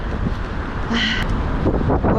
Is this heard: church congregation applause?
no